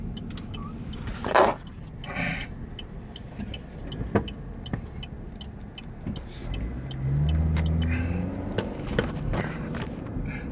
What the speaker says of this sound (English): Why is there so much traffic over here? I'm by the highway.